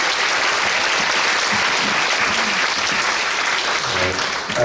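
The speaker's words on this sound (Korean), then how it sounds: "우리 따뜻하게 박수로 환영하겠습니다." A church congregation at a pastor's installation service claps warmly in sustained applause welcoming the pastor's family, steady and full, with a voice faintly audible near the end.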